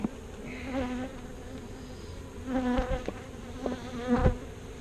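Honeybees buzz around an open hive during a swarm-prevention split, droning hums rising and fading as individual bees fly close past, with faint handling noises in between.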